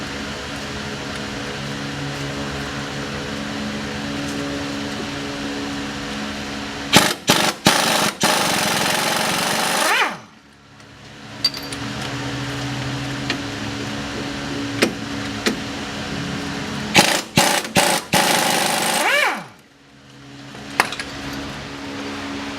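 Power tool work removing the two 15 mm lower strut bolts on a 2007-2015 Chevy Silverado 1500, with repeated loud bursts of whirring and rattling separated by pauses and quieter mechanical background noise.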